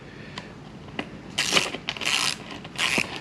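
An adjustable wrench tightens a nut over a washer on an awning mounting bracket, giving a few short metallic ratcheting clicks and scrapes in separate bursts, close and moderately loud, with no talking.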